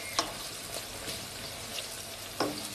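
Eggplant frying with onions in oil over high heat, a soft, steady sizzle heard close but quiet, broken by a few brief clicks of a spoon against the pan.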